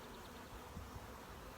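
Honeybees buzz around a hive being split, a steady, faint, low drone that holds evenly throughout with no voices over it.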